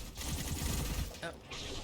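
Rapid gunfire in the first-person shooter Gunfire Reborn, a dense burst of quick shots lasting about a second, followed by brief game sounds.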